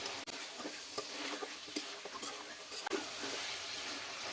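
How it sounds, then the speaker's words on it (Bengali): Duck meat coated in spices is stirred and fried in a pan, making a continuous soft sizzle and hiss broken by scraping stir strokes and light clicks, with no talking. "মশলার সঙ্গে ভালো করে মাংসটাকে মিশিয়ে দিতে হবে,"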